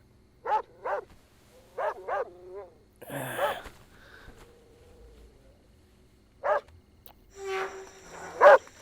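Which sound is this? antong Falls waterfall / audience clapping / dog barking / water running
dog barking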